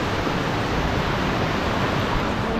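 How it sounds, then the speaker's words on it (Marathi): A stream of water runs from the Barki waterfall, a steady, dense rushing roar that stays even and close throughout, with no voices. "बर्फीचा धबधबा पुढंच आहे आपला धबधबा 2 मिनिटाच्या रस्त्यावरती, आणि हे त्याचं पाणी येते."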